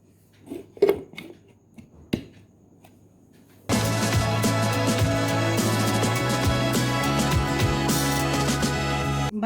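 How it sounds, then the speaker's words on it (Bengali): A mango smoothie with vanilla ice cream churns in a blender: a few clinks and knocks come first, then the motor starts abruptly and whirs loudly and steadily to the end, with no speech. "এবার আমি ব্লেন্ডারটা বন্ধ করে ব্লেন্ড করে নিব।"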